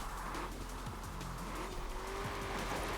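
Tires squeal in a long drawn-out drift in Forza Horizon 4 over a steady engine roar, with rising and falling screeches and an engine whine sweeping upward, loud and continuous without speech.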